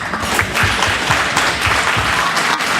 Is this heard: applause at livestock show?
yes